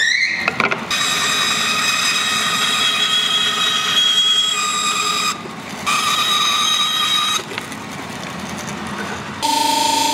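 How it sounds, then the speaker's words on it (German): A band saw cuts through wood in a sustained loud, whining run with tonal squeal, briefly dipping twice and changing pitch near the end as the cut shifts, for a homemade mechanical marble run. "wir sägen es mit der Bandsäge vor und schleifen es dann"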